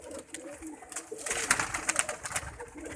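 A fancy pigeon with pale eyes coos softly against a faint background, with a few low throaty calls and some light fluttering and movement over a few seconds.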